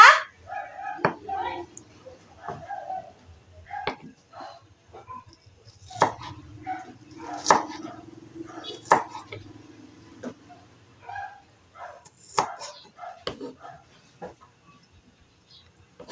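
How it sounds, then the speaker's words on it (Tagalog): Sweet potato leaves being chopped on a board with a knife for a salad, irregular sharp knocks and taps spread over several seconds, close, with someone talking in between and a dog barking. "Then, chop, chop, chop."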